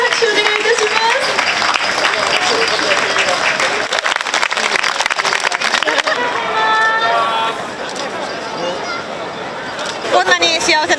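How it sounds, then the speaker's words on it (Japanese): A crowd applauds at an outdoor festival wedding in Ikebukuro West Gate Park, steady loud clapping filling the whole stretch while a voice talks over it and children can be heard in the mix. "皆様、今一度大きな拍手、温かい拍手をお願いいたします。"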